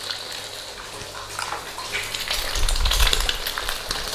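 Eggs fry in a hot pan while pineapple fried rice is being made, a sizzle that builds and grows louder and more crackly toward the end.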